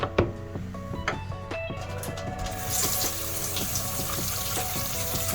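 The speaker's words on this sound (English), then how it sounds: "So now you can see that this brush suds are all set it up, and we're going to rinse this out." A makeup brush is rinsed under a running tap. Soft handling clicks come first, then steady water splashes into the sink for the rest of the clip, close and alone.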